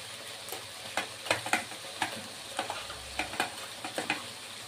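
Spices and turmeric sauté in a pan for a vegetarian paneer curry, giving soft sizzling with repeated sharp scraping stirs of a spatula at an irregular rhythm, close and fairly quiet.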